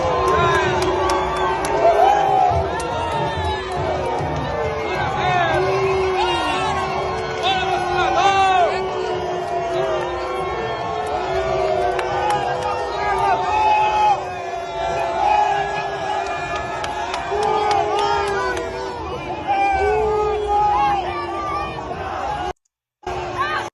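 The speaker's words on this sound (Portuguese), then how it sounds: "E o pessoal foi recebido com vaia" A dense crowd at the 2 de Julho parade in Bahia, Brazil, roaring and jeering in a steady, loud wash of mixed shouts and chatter that carries on without a break.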